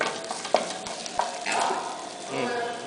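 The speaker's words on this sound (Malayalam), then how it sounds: "ഉള്ളി വഴറ്റ്" Onions sauté in a pan, giving a gentle sizzle broken by a few sharp scrapes and knocks of a spoon stirring them, close and without speech.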